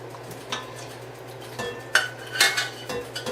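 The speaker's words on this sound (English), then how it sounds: "I'm taking the quail eggs from the boiling water and I'm placing them" Quail eggs are lifted from boiling water into a bowl of cold water, making a few light clinks and taps against the bowl over a low steady hum, with no talking.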